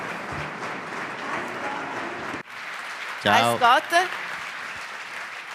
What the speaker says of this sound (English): A big round of applause for the championship of British Superbike